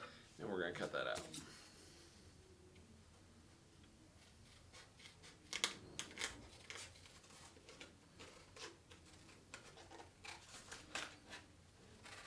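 Scissors snip through a paper plate in a craft session, a series of faint, close crisp cuts and crinkles spread irregularly through the clip, with a voice briefly at the start.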